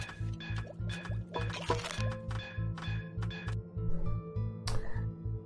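Water pouring and gurgling in a survival simulation game, a run of liquid fill sounds with drips and splashes over a rhythmic pulsing background loop, moderately close.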